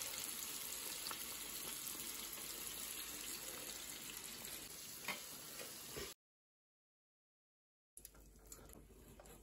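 Chopped onions fry in hot oil, giving a steady, dense crackling sizzle that continues evenly, cuts out briefly, then resumes. No voices are heard.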